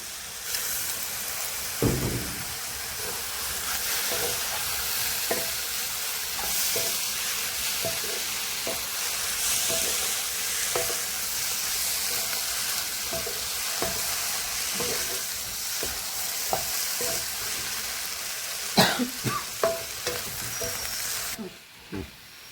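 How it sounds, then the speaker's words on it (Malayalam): Prawns sautéed with ground spice paste in a pan for a Kerala prawn theyal give a steady close sizzle throughout, with repeated scraping stirs and a few sharper clanks of the spoon near the end, with no talking. "കൊഞ്ച് നമുക്ക് ഈ അരപ്പിനോട് ചേർത്തൊന്ന് വഴറ്റിയെടുക്കാം"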